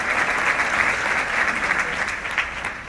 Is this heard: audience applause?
yes